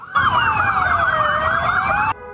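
Emergency vehicle sirens from federal highway police, military police, civil police and fire brigade cars escorting a funeral procession, a loud wailing tone sweeping up and down continuously before cutting off abruptly near the end.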